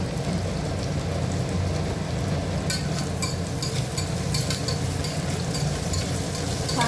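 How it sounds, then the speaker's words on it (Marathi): Potatoes, chilli and vegetables sauté in a pan for veg pulao, giving a steady crackling sizzle throughout, broken by a cluster of scraping, clattering stirs in the second half. "छान परतून घ्यायचे हे"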